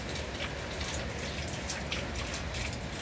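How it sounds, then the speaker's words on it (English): Steady rain patters densely on surfaces, a constant close wash of drops with no voices. "It's raining."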